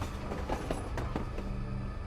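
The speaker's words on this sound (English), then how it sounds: "the sound of approaching trains arrived long before the trains themselves" Rumble and rhythmic clickety-clack of an approaching train on a railway line, a dense, continuous low roar with faint metallic wheel clicks, heard briefly with no voices.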